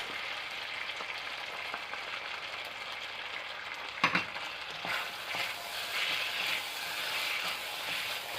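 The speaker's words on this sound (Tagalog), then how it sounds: "Stir fry for 5 minutes." Beef with oyster sauce stir-frying in a pan, a quiet steady sizzle with a brief clatter of stirring partway through, no voices.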